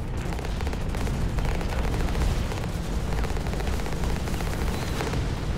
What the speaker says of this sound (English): I totally just blew myself up by shooting him